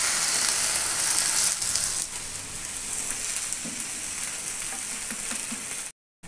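Cucumber thalipeeth coated with sesame seeds fries on a hot griddle with a loud, steady, close sizzle that continues throughout, with no talking.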